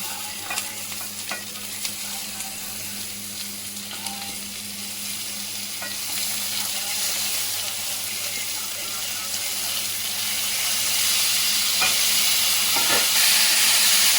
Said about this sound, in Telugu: ఇప్పుడైతే టమాటాలు వేస్తున్నాం.